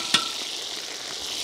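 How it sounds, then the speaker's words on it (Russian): Meat sizzles loudly in hot oil in a pan, a steady bright hiss after a brief clatter of stirring at the start. "когда мясо опускается в раскаленное масло, это шипение, это шкварчание"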